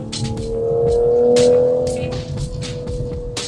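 A 2026 Toyota Supra accelerating in traffic, its engine note rising and swelling to a peak and then easing off, heard from inside with faint clicks and rattles over the steady drone.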